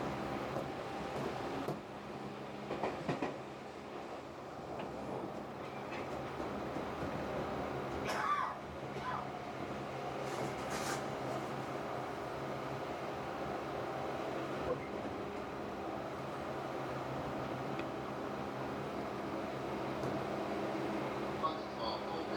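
A Tobu 8000 series train runs on the Noda Line (Urban Park Line) nearing Omiya, heard from inside: a steady low rumble of wheels and motor with rail clatter and occasional squeals, under an onboard announcement voice.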